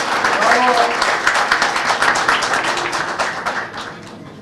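A company event audience applauds as an IT chief is welcomed onstage, dense sustained clapping that stays loud and gradually eases off, with a voice briefly heard near the beginning.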